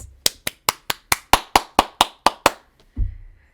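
About ten sharp hand claps in a steady, slightly quickening rhythm, loud and close, followed by a brief low thump at the end; no talking.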